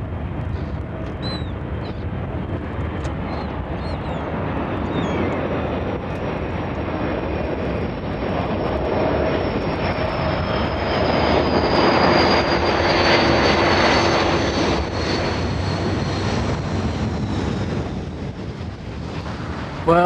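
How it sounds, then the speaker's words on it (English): A propeller or jet aeroplane passes overhead above an old seaport, its steady engine drone swelling toward the middle and easing off, with some wind buffeting on the microphone and no talk. "now all we can see is one aeroplane"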